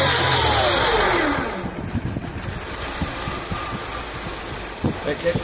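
Mercedes SLK 230 Kompressor engine with a faulty supercharger clutch, revving up from idle with a falling whine early on, then a steady mid-pitched engine rumble with occasional knocks, close and fairly loud.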